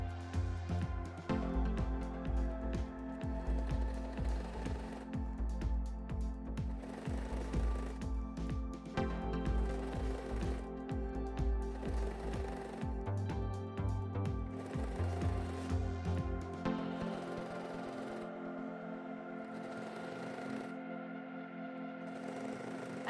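A sewing machine stitches a lace top, running in long steady bursts with short pauses, its motor drone and rapid needle chatter filling the room before it settles into a quieter, even hum near the end.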